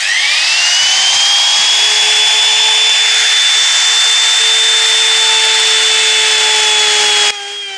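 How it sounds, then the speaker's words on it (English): A wood router cutting into a clock face being made at home runs with a loud, steady high whine for several seconds, then cuts off abruptly near the end. "I can use the router to do what we need to do"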